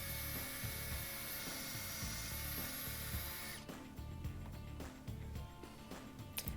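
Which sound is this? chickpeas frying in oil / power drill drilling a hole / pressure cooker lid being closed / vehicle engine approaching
power drill drilling a hole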